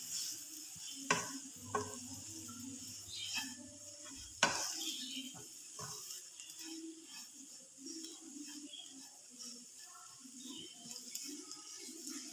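Okra curry coated in spices is stirred in a hot pan, soft scraping and utensil knocks over a faint, quiet sizzle.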